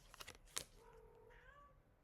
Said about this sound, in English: She's my talkative cat.